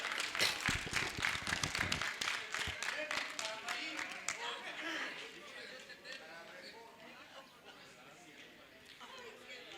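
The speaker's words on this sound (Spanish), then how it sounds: "Y otro aplauso para los periodistas fifí, por favor" Audience applause at a Mexican political gathering, sharp clapping for about two seconds that thins into mixed crowd clapping and murmur, with a voice speaking over the tail.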